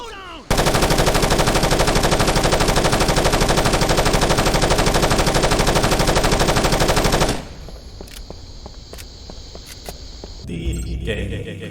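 Continuous automatic gunfire from the Rainbow Six Lockdown video game rattles loud and unbroken for about seven seconds, then drops to quieter scattered shots and clatter.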